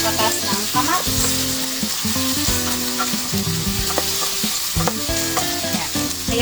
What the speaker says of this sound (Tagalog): atin yan pakuluan para lumabas yung katas ng kamatis